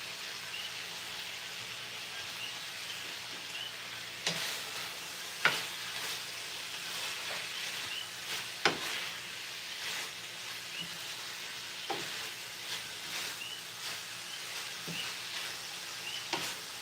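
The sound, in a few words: garlic and onion frying and being tossed in a pan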